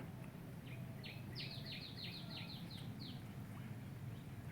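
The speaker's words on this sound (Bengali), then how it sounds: "শুনতে পাচ্ছেন দর্শক পাখির ডাক।" Birds call near a wetland, a quick series of faint high chirps in a short burst over a steady low ambient hum, distant and soft with no talk.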